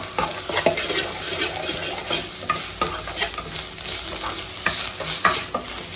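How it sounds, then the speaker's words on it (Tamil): Onions fry with ginger garlic paste for a spicy chicken gravy, a close, continuous sizzle broken by frequent scraping strokes of a spoon across the pan. No speech. "இஞ்சி பூண்டோட பச்சை ஸ்மெல் போகிற வரைக்கும் மறுபடியும் வெங்காயத்தை வதக்கணும்."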